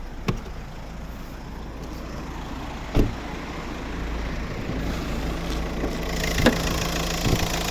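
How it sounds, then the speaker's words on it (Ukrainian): A 2009 VW Touran 1.9 TDI diesel engine idles steadily at low pitch, with a few sharp clicks and knocks scattered over the even rumble; no voices. "подивимось зараз під капотом роботу двигуна по вихлопу"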